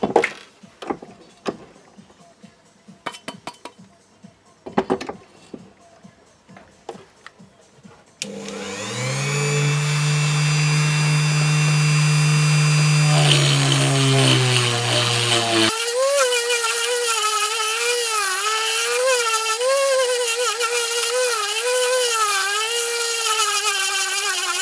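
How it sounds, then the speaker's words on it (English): Rotary tool with a sandpaper roll smoothing a Piaggio moped engine part: after scattered handling clicks and knocks, a loud high-speed whine starts and runs steadily, its pitch wavering as the roll presses into the metal. "So now I'm going to switch to the sandpaper roll and smooth it a bit."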